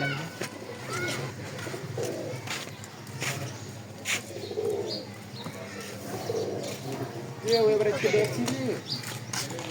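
Pigeons coo in soft, repeated rounded calls at a loft visit, fairly close and moderately quiet, mixed with occasional chirps and light background noise.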